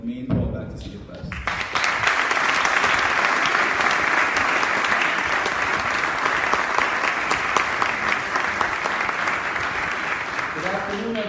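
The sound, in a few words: audience applause welcoming a convocation speaker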